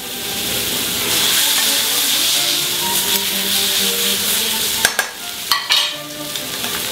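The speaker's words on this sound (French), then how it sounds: "Je remets le steak." Steak searing in a pan with sweated shallots for filet mignon au poivre, a loud, steady sizzle with a few sharp clatters and scrapes toward the end.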